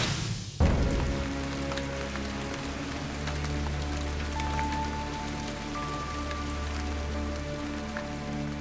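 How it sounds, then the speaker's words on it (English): Steady rain falls on an Iron Age archaeological dig at Dinmore Hill in Herefordshire, starting abruptly and then holding as a constant close patter with a low hum beneath, no voices. "the rain's going to get even worse"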